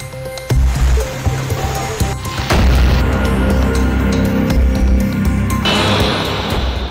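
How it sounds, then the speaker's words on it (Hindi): Floodwater pouring into basements along Sikar Road after heavy rain, a loud, constant rushing torrent with deep rumbling underneath that swells and grows fuller as it goes. "सीकर रोड के बेसमेंट में पानी का कहर।"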